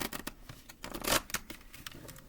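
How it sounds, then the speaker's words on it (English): Soft, close riffling of a tarot deck being shuffled, a run of quick papery card flicks with a slightly louder burst in the middle, kept deliberately quiet. "shuffle what I can."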